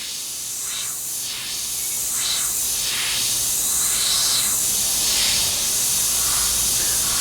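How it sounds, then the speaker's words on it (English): Close, steady hiss of an airbrush spraying paint onto a 1/48 scale F-14D Super Tomcat model kit, swelling in short bursts and continuing without pause. "we want to spray finely on top of them"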